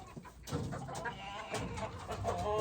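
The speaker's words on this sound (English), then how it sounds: "then that is another Mac Ray rooster" Gamefowl chickens and a rooster cluck and call in a pen, several short bird vocalizations close by, repeated in quick bursts over farmyard background.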